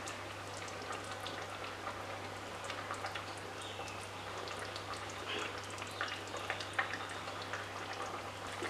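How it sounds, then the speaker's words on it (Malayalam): Kerala-style sardine chilli curry bubbling in a clay pot, a soft, steady patter of small pops and simmering crackles, faint and close, with no talking. "കറി ഇവിടെ നന്നായിട്ട് തിളച്ച് തുടങ്ങിയിട്ടുണ്ട്"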